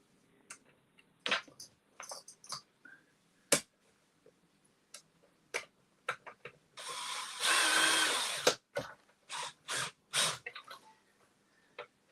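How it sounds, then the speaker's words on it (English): A power drill driving screws in a workshop, heard as a string of short separate clicks and brief bursts, then one sustained whine of about a second and a half, followed by a few more short drill bursts, fairly close. "while I get these screws in"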